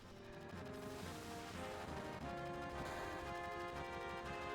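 Gunfire in the game Final Fantasy VII, rapid repeated shots in a dense burst layered over tonal game music, fairly faint overall.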